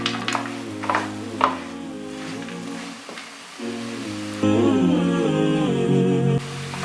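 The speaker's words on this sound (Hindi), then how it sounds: "अब हम इसमें ये मेवे डालेंगे, बादाम पिस्ता और काजू, और 1 मिनट के लिए हम इसे फ्राई करेंगे" Almonds, pistachios and cashews frying in bread halwa in a pan give a soft, steady sizzle with a few light stirring scrapes, under continuous background music.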